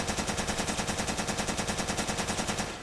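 A full magazine emptied from an XM8 rifle in Metal Gear Solid 4, a fast, even stream of automatic shots at steady rhythm for nearly three seconds, then cutting off.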